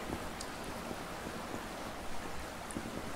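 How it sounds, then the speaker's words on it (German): Rushing waterfall in the survival video game Subsistence, a steady broadband wash of falling water heard fairly softly and continuously throughout. "Vorsicht, hier ist der Wasserfall."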